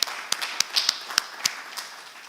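Scattered claps ring out at a urologic oncology retreat, a handful of sharp, separate hand claps spaced irregularly, not a full ovation, fading after a couple of seconds.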